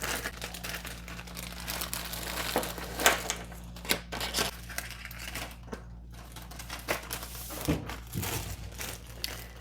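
Small bearings clatter and a plastic parts bag crinkles during a 3D-printer kit assembly, with close, irregular rustling and crackling bursts and small clicks throughout.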